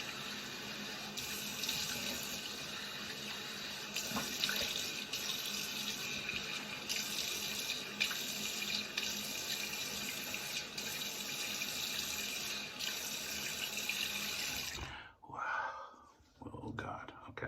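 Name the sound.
tap running warm water for rinsing razor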